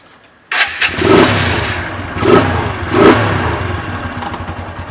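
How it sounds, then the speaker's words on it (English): A TVS Apache RTR 160/180 motorcycle engine cranks and catches after a quiet moment, then gets three sharp throttle blips over a rough idle, close and loud with no talking. "let's start the bike"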